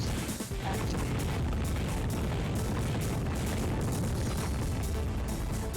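A sustained, loud rumbling blast from missile explosions in the video game FireFight, with continuous crashing and booming texture throughout.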